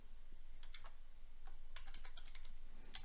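Rapid, light keystrokes on a computer keyboard as Arduino code is entered, coming in quick irregular bursts of close, crisp clicks over a quiet background.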